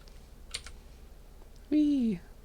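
A computer keyboard is typed on in a lecture setting: a few quick key clicks and an Enter press, followed by a short, bright electronic tone, all fairly quiet.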